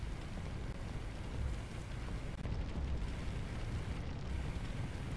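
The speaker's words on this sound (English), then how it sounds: "Sounds like we got a backdraft somewhere." Deep, rumbling thumps of a backdraft inside a burning office building in the firefighting video game Firefighting Simulator roll under a constant roar of fire, dense and sustained throughout with no talking.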